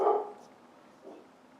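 A dog gives one muffled bark, then a fainter second bark a moment later, somewhat distant.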